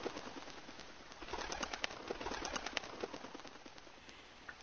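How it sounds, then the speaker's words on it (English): Birds in the Flash game Grow Cube, with a steady stream of short, clipped chirps and cooing flutters repeating over a busy game background, fairly close and moderately loud. "What are these birds doing, bro?"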